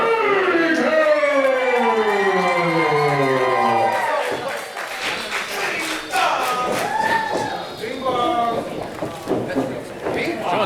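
Wrestling crowd at a UWA Elite championship match cheering and chattering loudly and continuously, with a sustained roar at first that settles into a busier, fluctuating crowd noise.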